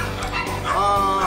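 A retired police dog gives a couple of short, close barks and yips with a whimpering edge, loud and near, with a person's voice briefly mixed in.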